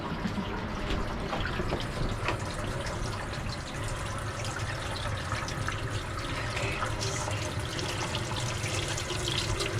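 Warm tap water runs steadily into a sink while a pastel tri-color and black tie-dye tee is rinsed, a constant soft splashing hiss with no break.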